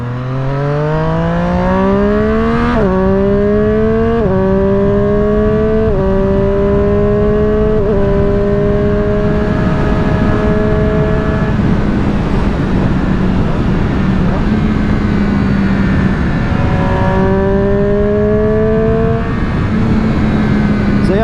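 A Triumph Street Triple 765R fitted with an AliExpress SC Project exhaust accelerates hard through several gears, loud and close, the engine pitch climbing and dropping at each shift, with wind noise between pulls.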